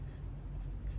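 Hand-written numbers being scrawled out during a lattice-method decimal multiplication problem, a steady low scratching of pen or marker across a surface, continuous and fairly quiet, with no talking.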